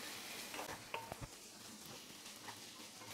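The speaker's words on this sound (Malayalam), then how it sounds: "ഈ തക്കാളിയും കൂടെ ചേർത്ത് നല്ലതായിട്ടൊന്ന് വഴറ്റിയെടുക്കാം." Chopped tomato sautés with ginger and garlic in a pan for a naadan green peas curry, a faint, steady sizzle with a few soft stirring clinks.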